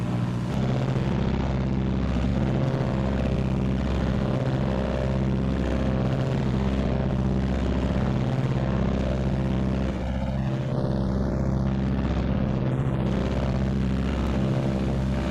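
Steady, loud roar of a Martin B-26 Marauder's twin piston engines running up together to about 1,800, a constant droning throb filling the whole stretch with no voices.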